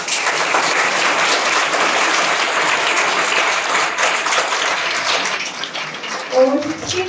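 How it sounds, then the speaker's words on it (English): A big round of applause for the Blue House team at a junior quiz competition, dense sustained clapping from a crowd that stays loud for several seconds before a voice breaks in near the end. "So please give a huge round of applause for blue house."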